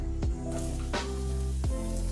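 Button mushrooms frying in olive oil in a hot cast iron pan, giving a steady, soft sizzle punctuated by three sharp utensil clinks.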